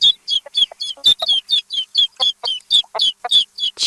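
A chick gives a rapid run of high, sharp peeps and clucks, steady and close, about a dozen calls in a few seconds with no voices.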